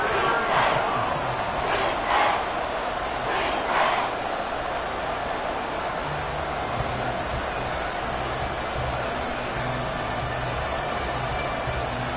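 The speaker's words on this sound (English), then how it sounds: "this crowd is making an impact right now." Football stadium crowd at a Green Bay at Houston game, a broad roaring din of many voices that swells with a few louder shouts early, then holds steady as a dense wash of sound.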